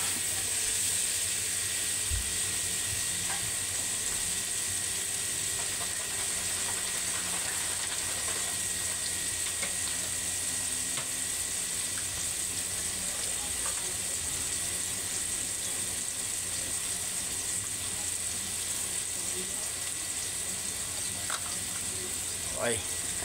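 Tomatoes and coconut milk simmering in a pan for a Filipino-style tilapia dish give a steady, close sizzling hiss that runs throughout, with faint clinks and occasional talk over it.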